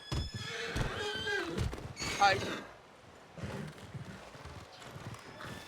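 A horse neighs and its hooves clip-clop in a comic Western scene, loud and close, with a voice talking and crying out over the sounds.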